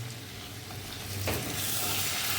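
Desi chicken sautéed in a pan for an Odia recipe gives a continuous soft sizzle and frying crackle, with a brief stirring scrape partway through and no talking.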